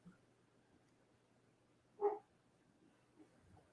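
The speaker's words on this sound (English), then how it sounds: "Puppy." A puppy gives a single short bark partway through, faint and somewhat distant over a quiet room hum.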